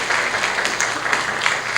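Audience at a legal seminar applauds a departing association president, a steady wash of clapping held at an even level throughout, with a faint voice underneath.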